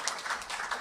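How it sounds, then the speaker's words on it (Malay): Applause from an audience for a speaker, a steady wash of many hands clapping together, moderately loud and continuous throughout the short burst. "beri satu lagi tepukan gemuruh kepada pembicara kita"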